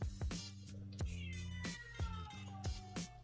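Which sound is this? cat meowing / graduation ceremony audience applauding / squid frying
cat meowing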